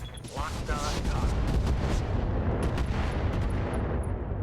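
Mech weapons firing in the video game RogueTech: a sustained, dense barrage of heavy booming fire with rumbling low end and crackling impacts throughout, loud and continuous, with a voice speaking briefly early on.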